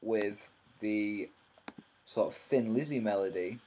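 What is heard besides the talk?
No everyday noises stand out.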